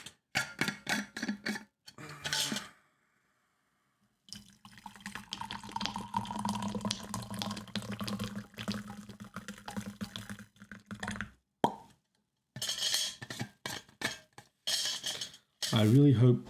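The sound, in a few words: tea being poured into a cup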